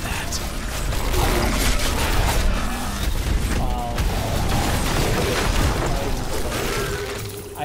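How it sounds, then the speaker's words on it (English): Warp explosions spammed in Diablo III: Reaper of Souls, a dense, continuous barrage of booming, crackling and shattering game effects with metallic clatter, loud and sustained throughout. "I just spammed warp explosions."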